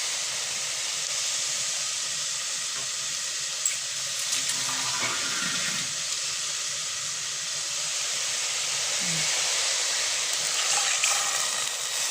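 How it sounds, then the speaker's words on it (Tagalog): Water poured into a pot of beef-macaroni soup, a steady hissing rush of water running continuously, with a few faint clinks. "So, lagyan na natin ng konting tubig yan guys"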